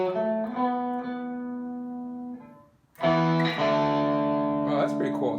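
An electric guitar played through Guitar Rig 5 with reverb and distortion rings out in sustained notes, fades to a brief gap, then a loud new chord blooms with a long reverberant tail, close and solo.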